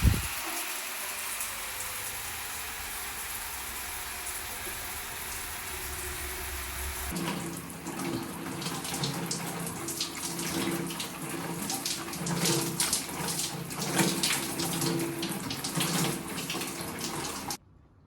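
Hot water gushes steadily from a tap, a constant hiss that shifts to a fuller splashing flow partway through, then stops abruptly at the end.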